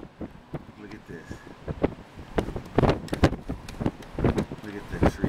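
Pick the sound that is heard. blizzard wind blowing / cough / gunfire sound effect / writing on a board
blizzard wind blowing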